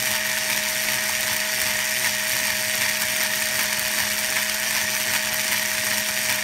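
A steady, continuous drilling whine from a drill boring slowly into a bone knife handle, with a constant mechanical tone, close and fairly loud, running uninterrupted without speech.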